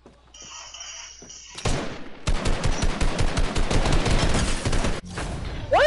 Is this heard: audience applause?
no